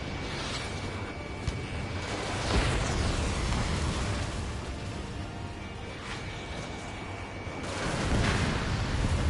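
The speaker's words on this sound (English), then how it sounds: "Strutter 1, missile launched." Missile launches and explosions in Ace Combat 7 with an F-14, layered whooshes and booming blasts over a constant roar, swelling louder near the middle and again toward the end.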